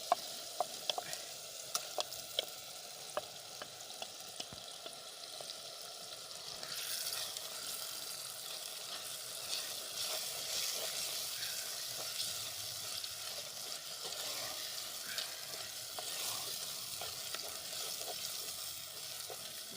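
Roasted eggplant sizzling and being stirred with onion and spices in a pan on a traditional clay stove, with a steady frying hiss throughout, a few sharp clicks early on, and a louder, fuller sizzle from about a third of the way in. Nobody speaks.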